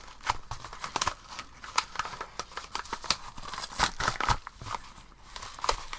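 Close crinkling and snipping of stiff paper or card, a series of irregular sharp cuts and rustles with no talking.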